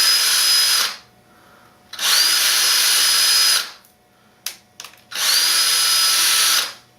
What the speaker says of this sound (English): I'll put this right in the hole and just turn it on down and countersink those for the motor bolts